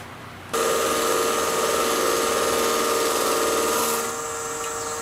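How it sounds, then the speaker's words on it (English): A buffing wheel spins up abruptly and polishes paste wax off a natural-edge oak crotch bowl, a steady loud whirring hum with a faint rubbing texture that drops slightly in level near the end. "So I'm polishing this with the buffing wheel."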